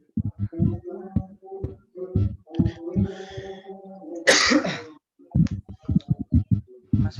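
A man coughs during an online meeting: a sharp, noisy burst stands out between stretches of ordinary talk, loud and close to the microphone.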